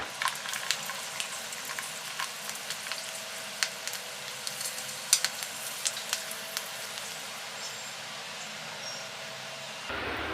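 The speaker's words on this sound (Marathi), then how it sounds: "मी साबुदाण्याचा पापड तळून दाखवत आहे" Sabudana potato papad frying in hot oil, a steady crackling sizzle dotted with sharp pops and bubbling spits, close and unbroken for several seconds before cutting off.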